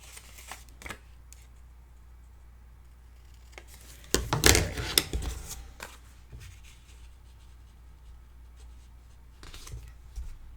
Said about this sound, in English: Let's use these scissors.